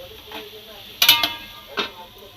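Spiced whole eggplant stirred in a pan with a yogurt-based masala: a few sharp spatula scrapes and clinks over a soft, steady sizzle.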